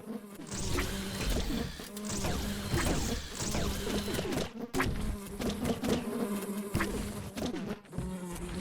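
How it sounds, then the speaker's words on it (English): Insect-like buzzing from bees in the Virballs video game, a dense continuous drone with scattered sharp hits and clatter layered over steady background game sound. "I hear bees."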